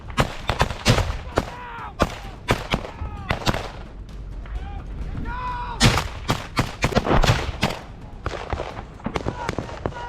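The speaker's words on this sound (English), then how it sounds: "They try to respond with grenades and small arms fire" Small arms fire in a trench fight with Russian soldiers, loud sharp bursts of gunshots in quick irregular clusters, some close and some spaced, with shouting voices mixed in.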